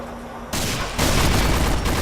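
Volley of gunfire in the shooter video game Combat Arms, a sudden dense burst of rapid shots that swells louder and continues steadily to the end, loud and close.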